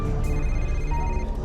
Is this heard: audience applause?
no